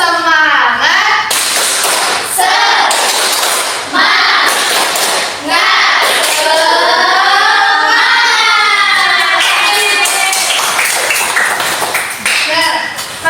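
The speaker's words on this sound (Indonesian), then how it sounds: "1, 2, 3. Tepuk semangat." A primary school class performs the rhythmic 'tepuk semangat' spirit clap, with group claps in patterned bursts alongside a teacher's and children's voices chanting and talking throughout.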